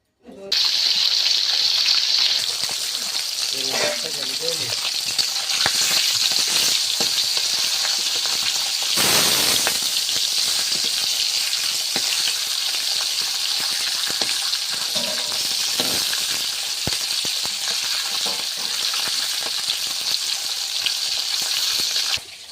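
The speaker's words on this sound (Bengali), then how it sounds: "এবার মাছগুলো ভেজে নেবো।" Fish, near where prawns and jackfruit are cooked, sizzles in hot oil in a pan with a loud continuous crackling hiss, close, with stirring clatter and brief voices in the background.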